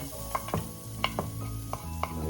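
Garlic sizzles in a pan at the start of a beef pares cook, a steady frying hiss broken by several sharp stirring clinks and scrapes of a utensil, close and moderately loud, with no talking.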